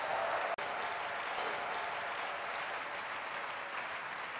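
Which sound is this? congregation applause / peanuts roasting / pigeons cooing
congregation applause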